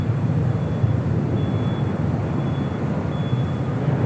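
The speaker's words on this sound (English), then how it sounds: "China Cargo Airlines Flight 222 heading to Shanghai in this 777 freighter." China Cargo Airlines Boeing 777 freighter departing LAX, a sustained broad jet engine roar with steady rumble, loud and continuous throughout.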